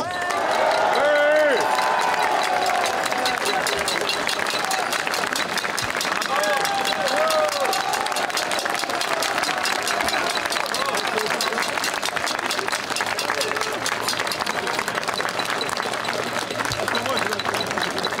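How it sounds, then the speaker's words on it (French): Crowd at an outdoor political rally applauds loudly and continuously, dense rapid clapping with cheering and scattered voices mixed in, sustained throughout. "non pas un tonnerre d'applaudissements, mais une explosion d'applaudissements pour Jean-Frédéric Poisson."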